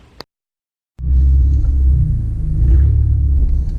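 A car's exhaust, its tips cut off, rumbles deep and loud after a brief gap of silence, a steady low drone with a faint rattle running through it.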